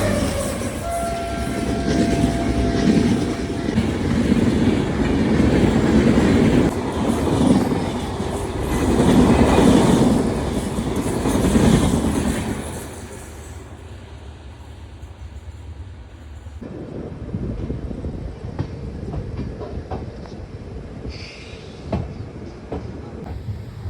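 The Howrah Balurghat Express rolls along the rails, its steady rumble and wheel clatter loud and close, with a horn sounding before the noise drops as it crosses the Farakka Express.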